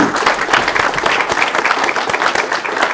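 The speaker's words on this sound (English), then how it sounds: "can we please have a round of applause for the hosts here who brought us here and let us use this?" An audience at a lecture event gives a round of applause for the hosts, a loud, dense, sustained clapping with no pauses.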